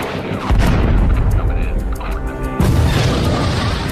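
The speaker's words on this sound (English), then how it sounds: "The nightly airstrikes pound Iraqi positions throughout the region" Airstrike explosions pound Iraqi positions in Gulf War archive footage, loud heavy booms with a dense rumbling roar, a fresh blast hitting near the end.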